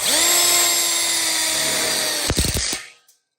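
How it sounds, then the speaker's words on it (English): A power drill runs steadily for over two seconds driving a screw into a welded split bar counter kit for an outdoor kitchen, then winds down with a few short bursts and stops, close and loud. "So with that one screwed in,"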